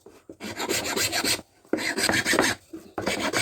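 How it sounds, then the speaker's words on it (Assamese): A hacksaw rasps through bamboo, cutting a small notch in a few bursts of quick back-and-forth strokes with short pauses between, close and fairly loud. "হেকচুখন লৈ পেলাই কিঞ্চিত খাজ এটা কাটি ল'ম।"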